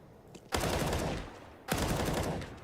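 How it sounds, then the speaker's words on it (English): Two long bursts of rapid automatic gunfire through a wall in CS:GO, each starting abruptly and rattling on loudly for about a second before fading, with a short quiet gap between them. "2 wallbang bullets connect"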